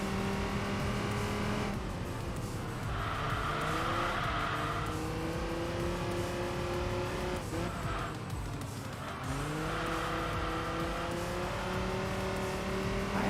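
A Dodge Viper race car in the video game Enthusia Professional Racing, its engine roaring loudly as it revs up through the gears with repeated shifts, and with brief tire squeal.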